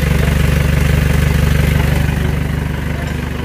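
An Isuzu Panther engine idles close up with a damaged, leaking flexible exhaust pipe, giving a loud, steady chuffing pulse that runs throughout.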